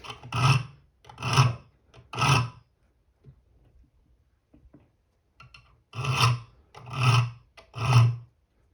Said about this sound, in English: I'm just going to use two hands, one on each side of the file. And you're just going to go forward.